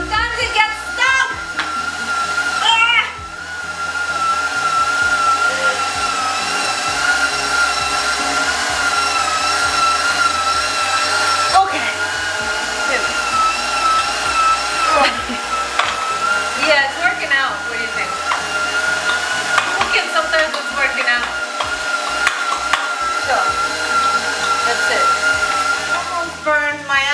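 An electric meat grinder runs continuously at close range, a loud steady motor whine that shifts slightly in pitch as the meat is pushed through.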